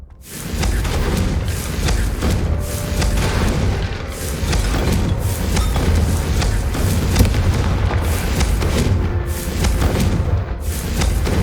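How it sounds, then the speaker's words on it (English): A Confringo spell explosion in the Hogwarts Legacy video game, loud booming blasts with rumbling low end that repeat in quick bursts, layered over dense continuous noise for the whole stretch. "I think you'll find that a Confringo cast travels a bit farther than that of a spell like Incendio"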